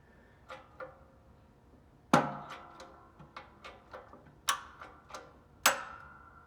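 Metal bearing race being pressed off a Getrag five-speed output shaft from a Fiero, giving a series of sharp, close clicks and pops in irregular rhythm, with a few louder cracks standing out.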